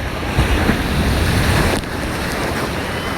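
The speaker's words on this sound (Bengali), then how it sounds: "দীঘা সমুদ্রের ঢেউ বন্ধুরা" Sea waves surge and wash onto Digha beach in a steady, loud roar with wind buffeting the microphone, easing slightly after a swell breaks midway.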